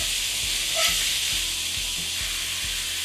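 A steak sears in a hot cast iron skillet with a steady, loud sizzle and hiss, and a faint rhythmic low thumping runs underneath.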